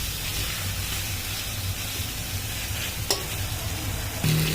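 Onions frying with poppy seed paste in a pan for aloo posto, a steady close sizzle with faint stirring scrapes, and a louder burst of hiss near the end.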